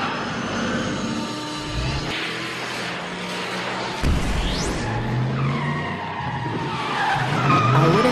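A car in the video game GTA 5 skids with drawn-out tire squeals rising and falling over a roaring engine, mixed with aircraft-like engine noise in a busy, continuous game soundscape.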